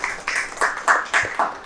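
Several people clap at a gathering, a short burst of uneven, close claps in loose rhythm.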